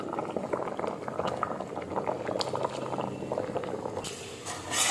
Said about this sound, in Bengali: এবার এটা একটু সেদ্ধ করতে দেব, সেদ্ধ করতে বসিয়ে দিলাম।